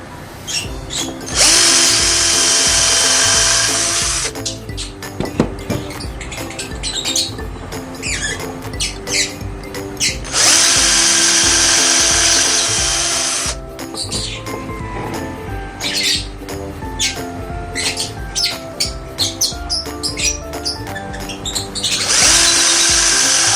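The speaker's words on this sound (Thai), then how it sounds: "นนี้เจาะสี่มุมนี้หนึ่งสองสามสี่ตรงนี้นะ" An electric drill bores holes into the wooden corners of a DIY camping cooler stand in three loud, sustained whirring bursts. Clicks and handling noises fill the gaps between them.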